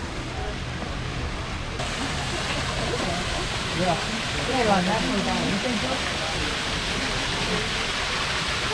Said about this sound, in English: I wonder if that's a natural waterfall.